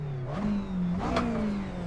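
A race car engine in iRacing revs up and holds, then climbs again. The tone is loud and close and carries no talk.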